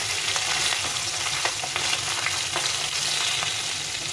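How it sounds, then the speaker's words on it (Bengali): Bata fish sizzle steadily in hot oil in a pan, a loud, dense crackle with occasional sharper pops as the pieces are turned, no voices. "মাছগুলো এক পাশে ভাজা হয়ে গেছে, উল্টে পাল্টে ভেজে নিলাম।"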